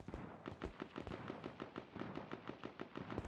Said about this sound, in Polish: O, słychać strzały gdzieś.